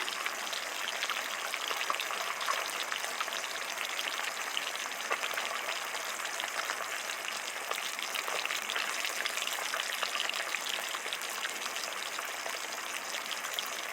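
Poppy seed paste (posto) frying in a pan as a steady, faint hiss and crackle, unbroken and low in level.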